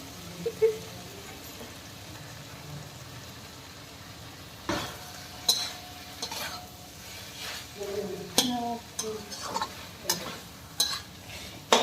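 Onion and cream (malai) sabzi cooking in a home kitchen pan, with a spoon scraping and stirring in irregular bursts over a soft, low sizzle, plus occasional light clinks against the pan.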